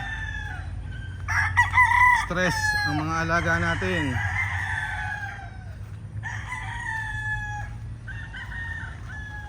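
Chickens on a rain-soaked farm, a rooster crowing loudly once amid scattered clucks over a steady low background hum, with a person speaking briefly.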